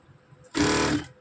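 An electric sewing machine stitches a sari blouse hook in one short, close burst of about half a second, with a quiet room before it.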